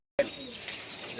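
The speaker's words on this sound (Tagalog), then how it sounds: "Ibon yan." A soft bird call with a couple of cooing notes, close by, heard alone against a quiet background.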